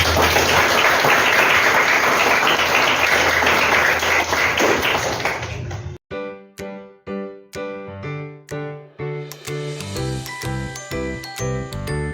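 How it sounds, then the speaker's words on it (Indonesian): Audience applause at a school teachers' event, a broad noisy wash of clapping for about six seconds that then cuts to bright tinkling chimes and steady tapping notes. "Bisa tepuk tangan mungkin."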